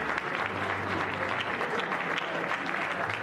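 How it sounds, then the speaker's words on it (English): A crowd at a televised public event applauds and cheers in a steady, dense wash of clapping throughout, with no break or clear single voice. "Let's all clap"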